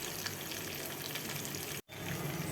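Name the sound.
tangra fish frying in a pan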